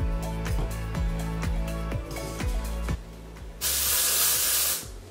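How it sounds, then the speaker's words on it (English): Dry shampoo aerosol can shaken with a rapid rattling rhythm for several seconds, then a loud, steady hiss of spray released close up for about a second. "I usually give it a good shake right before I spray it."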